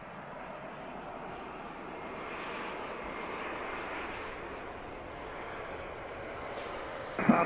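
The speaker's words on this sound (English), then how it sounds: "this is American 2469 from DFW. Airbus" An American Airlines Airbus A321-200 out of DFW gives off a steady, distant jet roar that swells slightly mid-way, with a brief louder knock at the very end.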